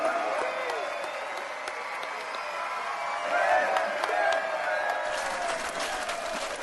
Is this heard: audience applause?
yes